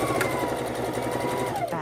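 A sewing machine runs continuously and closely for a short stretch while back-stitching pieced quilt blocks, its rapid needle rhythm steady with no pauses and no talk.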